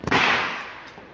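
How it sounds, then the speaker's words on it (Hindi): A single sharp firecracker bang up close during Diwali, followed by a fading crackling rumble. "पटाखे जला रहा है, स्काई शॉट जला रहा है"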